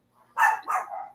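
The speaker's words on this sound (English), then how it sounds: "the dogs are going crazy" Agitated dogs barking in a few quick, excited bursts at fairly close range, with short gaps between barks and no talking over them.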